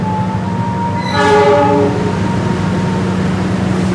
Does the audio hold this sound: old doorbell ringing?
no